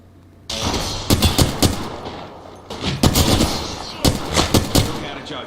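Apex Legends gunfire: loud clustered bursts of shots in quick rhythmic volleys with brief pauses, a few single cracks between, close and punchy.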